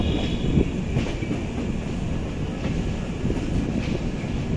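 Azad Hind Express running at speed on the Howrah–Pune main line, heard from inside an AC 3 tier coach: a steady, loud rumble with rhythmic clickety-clack of wheels over rail joints throughout, no voices.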